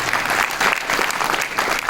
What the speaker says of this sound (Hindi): थोड़ा जोर से ताली बजाइए